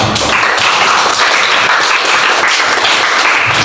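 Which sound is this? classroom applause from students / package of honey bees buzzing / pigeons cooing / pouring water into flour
classroom applause from students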